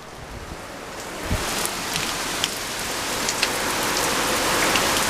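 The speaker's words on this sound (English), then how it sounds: "It is raining so hard right now." Heavy rain pours steadily in Portsmouth during a flood warning, a dense, close hiss of drops drumming on surfaces with a few sharper splats and knocks, no talking over it.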